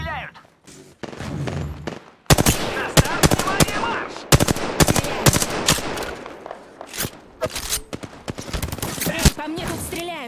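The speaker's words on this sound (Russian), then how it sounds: "По мне тут стреляют." Rapid bursts of automatic gunfire in a video game crackle close and loud, with shots aimed at the player arriving in dense clusters and brief pauses over roughly ten seconds.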